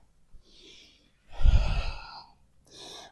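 Breathing during a yoga flow: a short inhale, then a long audible exhale while folding forward, and a softer breath at the end, close and quiet with no talk.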